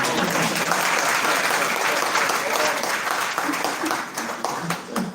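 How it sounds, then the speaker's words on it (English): An audience at an academic and practitioner conference claps for a panel, a full, sustained round of applause that thins slightly toward the end, with faint voices underneath. "let's give them a clap"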